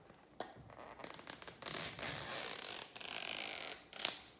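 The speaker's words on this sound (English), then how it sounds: "I found the zipper." A zipper on Dior perfume packaging is pulled open in a few short ratcheting bursts, close and fairly quiet, with brief pauses between pulls.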